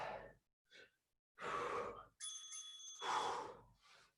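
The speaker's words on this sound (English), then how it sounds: "That's the bell." A bicycle-style bell rings at the end of a timed interval in a bodyweight bootcamp workout. It is a single sustained metallic ring with shimmering overtones, set among bursts of breathing and gasps.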